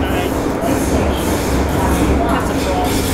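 An MTR Island Line M-Train runs underground in Hong Kong, a loud continuous rumble and roar filling the car with rail clatter throughout.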